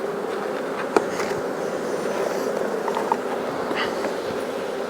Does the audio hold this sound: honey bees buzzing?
yes